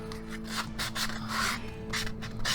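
Wooden stiffeners on a Hermione La Fayette model ship kit are rubbed down by hand, giving close, repeated short abrasive strokes in an uneven rhythm with no voices.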